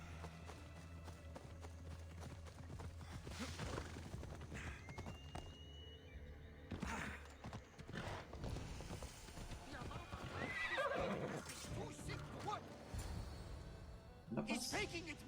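Horse hooves clip-clop in Assassin's Creed Odyssey, with a neigh breaking through the running hoofbeats and game ambience. A voice talks over part of it.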